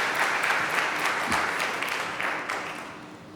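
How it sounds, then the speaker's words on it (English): An audience at a carbon-to-value conference applauds in a dense, even patter of many hands that gradually fades over a few seconds. "It's nice to clap because he might be watching online."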